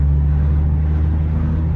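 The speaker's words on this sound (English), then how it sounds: "Just listen to that engine." A Nissan GT-R R35 engine runs at a steady idle, a deep, smooth low rumble held evenly throughout the short stretch with no voices over it.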